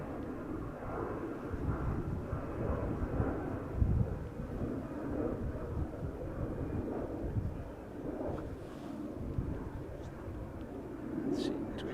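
Airliners at Schiphol Airport, including a Dreamliner heading out to Montreal, rumble as a steady broad jet roar from a distance, mixed with wind buffeting the microphone and a faint voice underneath.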